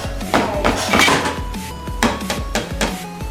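Dishes being washed in a Thai restaurant kitchen: loud, close clattering of plates and utensils, with repeated sharp knocks and scrapes in irregular bursts and no talking.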